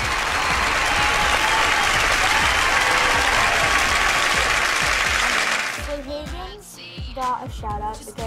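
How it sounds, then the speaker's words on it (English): A crowd gives a dense, sustained round of applause that fills the room loudly, then breaks off abruptly, after which a voice speaks over the quiet. "Let's give a round of applause to Sid Hagen."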